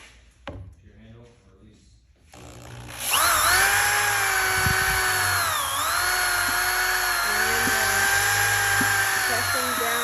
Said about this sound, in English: Pressing down on the sander to make it smoother.